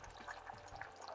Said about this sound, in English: I also want to add just a little bit more of the brown sauce